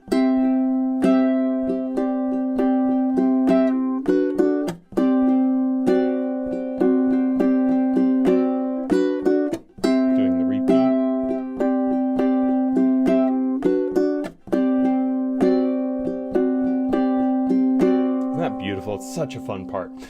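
Ukulele melody from measures 21 to 24 of a piece, plucked close up in a steady run of bright notes, with brief pauses between phrases and a faint voice at the very end.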